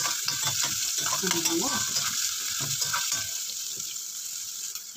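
Garlic and onion fry in a pan for a chicken pininyahan dish, giving a steady close-up sizzle and crackle with some stirring, while a voice speaks briefly over it.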